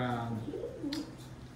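Homing pigeons coo softly inside a loft of young late-hatch birds, a low warbling coo rising and falling while someone talks over it nearby.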